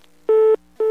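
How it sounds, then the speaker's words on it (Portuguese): Telephone ringback tone heard during a prank call, two identical steady electronic beeps, one then a second after a short pause, clear and close with no voices. "Ó, tá chamando aí"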